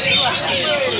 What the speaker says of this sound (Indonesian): Yuk kita ikuti bagaimana suara merdu kicauan burung kacer